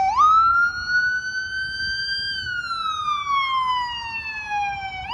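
A single loud, close emergency vehicle siren wail rising, holding, then slowly falling, with faint traffic rumble beneath, at Columbus Circle, Manhattan, New York City.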